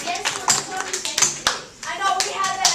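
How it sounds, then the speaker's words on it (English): A classroom of students claps for a group after a math answer: uneven, scattered claps and taps with short gaps, fairly close, and children's voices chattering over them. "Round of applause for group 5."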